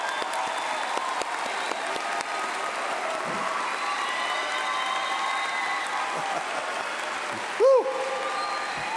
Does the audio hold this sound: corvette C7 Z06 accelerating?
no